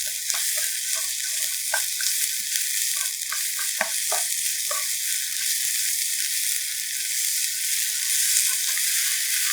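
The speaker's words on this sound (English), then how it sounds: "put the pork first. You stir fry it over high heat" Pork stir-frying over high heat with spring onion in a pan, a steady bright sizzle with scattered scraping stir clicks and knocks from a utensil, close and continuous with no talk.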